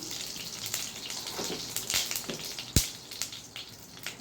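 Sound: cumin seeds sizzling in hot oil

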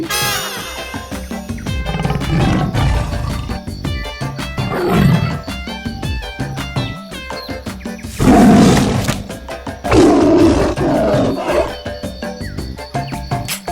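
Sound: tiger roaring in animated story

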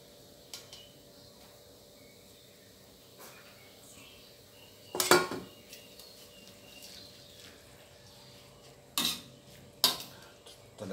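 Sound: blanching jade noodles and pork in pot

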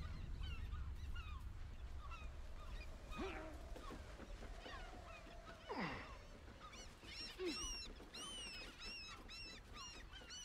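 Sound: seagulls calling in Baldur's Gate 3 video game

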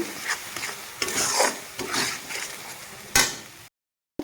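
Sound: spice mix with paneer being stir-fried

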